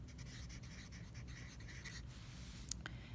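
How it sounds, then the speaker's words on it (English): Pencil scratching across paper in short broken strokes while rectangles are marked out for a hatching value scale, close and fairly quiet, with a faint tap near the end. "So I'm going to write that right here."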